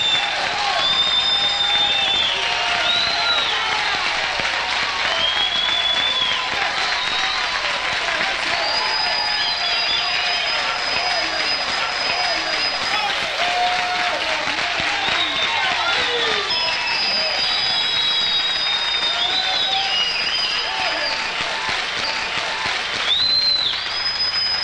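A crowd applauds continuously and loudly for the whole stretch, a dense wash of clapping with shouts and cheers rising within it.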